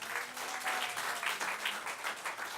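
A church congregation at a wedding sermon bursts into steady applause, a dense wash of many hands clapping throughout.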